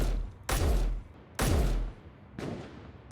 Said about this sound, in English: I really hope we're shooting in the right spot.